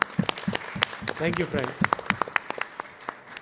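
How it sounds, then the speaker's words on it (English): Sharp, close hand claps from attendees at a press briefing closing a summit, applauding the media in an irregular scattered rhythm, with someone briefly speaking over the clapping. "A big round of applause for the media."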